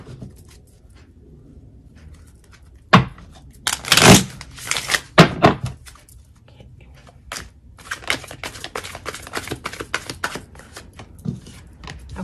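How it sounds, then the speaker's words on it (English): Tarot cards being shuffled by hand: bursts of crisp papery riffling and tapping, densest midway and again toward the end, close and fairly loud with no talk. "you saw how much I shuffled, and look what just came right back out."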